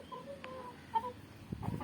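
Chickens clucking close by in a backyard flock, a few short clucks and a brief higher call, then rustling and wing flapping near the end, all faint and with no talk.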